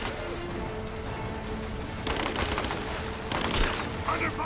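Gunfire rattles in Rise of the Tomb Raider as dense, overlapping volleys sound amid a noisy battle, swelling into louder bursts toward the middle and end.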